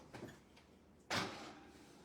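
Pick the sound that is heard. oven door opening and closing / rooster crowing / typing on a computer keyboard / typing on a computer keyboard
oven door opening and closing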